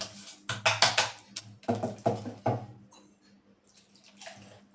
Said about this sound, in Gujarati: એમાં થોડું પાણી એડ કરીશું ફ્રેન્ડ આ રીતે આપણે પાણી આ મિક્સ કરી લેશું